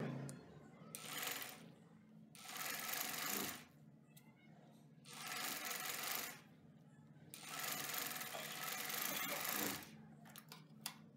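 A sewing machine stitches elastic onto the sleeve of a baby top in four close bursts of rapid whirring, each separated by a quiet pause.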